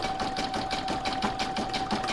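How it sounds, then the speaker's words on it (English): A machine sews round after round of stitching on a Hearts In Abundance placemat, giving a close, continuous rhythmic whir with a fast, even pulse. "I now pop that back in my machine and stitch round number 9 again"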